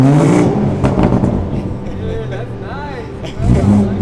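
A modded BMW 340i starts up and revs in sport plus mode, loud and close, with a sharp burst at the start, rising and falling revs, then another surge at the end, while people talk nearby.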